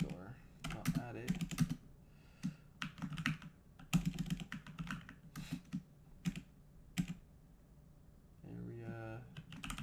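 Computer keyboard typing in irregular clusters of quick clicks during a Java programming session, close and fairly quiet, with pauses between bursts and a brief murmur near the end.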